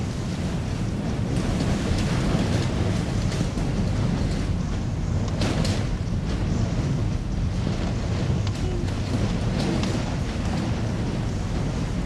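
Steady, roaring wind from a sudden storm on a highway buffets the microphone with a heavy low rumble, a few gusts swelling through an unbroken stormy wash of noise.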